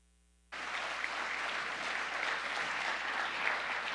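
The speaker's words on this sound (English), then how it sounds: "Keep it going for Ecoplast Solutions, everybody. Round of applause." Audience at the Emerald Awards ceremony breaks into sudden, sustained applause for Ecoplast Solutions, a dense wash of clapping that holds steady at moderate level.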